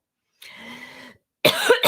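A person coughs after choking on coffee, a muffled throaty hack followed by a loud, harsh burst of two close coughs right into the microphone, with no speech.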